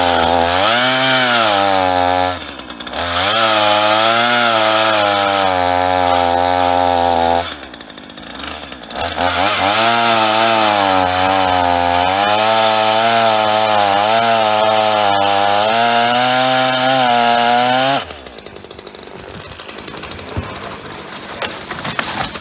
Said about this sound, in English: we're going to go out in the woods and see what this free chainsaw can do